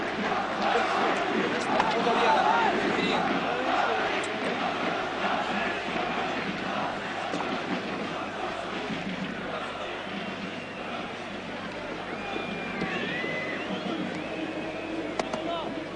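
The stadium crowd at an Olympique de Marseille vs Club Brugge Champions League match in 1992-93 cheers Alen Boksic as he is substituted off. It makes a broad, distant roar, with a commentator talking over it throughout.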